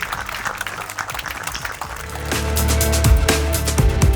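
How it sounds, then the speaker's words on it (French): An audience at a Montreal back-to-school celebration for immigrant families breaks into applause, the clapping building from a scattered patter into louder, fuller clapping over a low crowd rumble, with some voices mixed in. "j'aimerais qu'on applaudisse très,"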